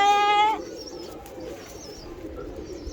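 A single loud, tonal coo from a golden pigeon at the very start, followed by faint chirps and twittering of other birds in the background.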